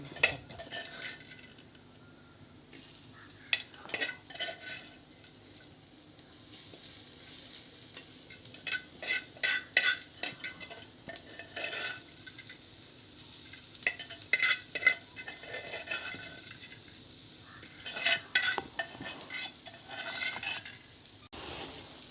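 Jackfruit pieces fry in hot oil for Palakkad-style chakka upperi chips, with bursts of sizzling, scraping stirs and metal utensils clinking against the pan, coming and going in irregular spells.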